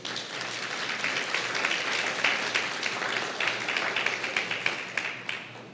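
Congregation in a church service gives the Lord a strong round of applause, steady dense clapping that carries evenly from start to finish.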